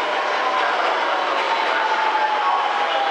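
A Haruka limited express train rushes past in a loud, steady roar of wheels and air, close by and continuous, with no talk.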